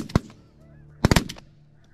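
Snow geese honk during their spring migration, one near call followed by a quick cluster of loud honks against a quiet outdoor background on a hot day with a south wind.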